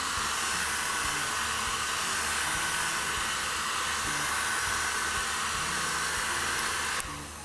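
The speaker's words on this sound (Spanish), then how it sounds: "Se pueden ayudar nuevamente con un poco de secador de cabello." A hair dryer blows steadily on buttercream frosting for a birthday funfetti cake, a loud, continuous close-up whoosh that drops in level abruptly near the end.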